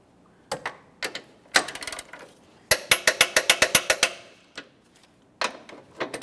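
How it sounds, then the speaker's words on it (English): Ratchet wrench tightens engine mount hardware to torque on a 2014-2018 Mazda 3, clicking in short bursts with pauses between them, including one quick run of about ten sharp clicks, close and dry with no talking. "I can torque each of these pieces of hardware to 60 foot-pounds"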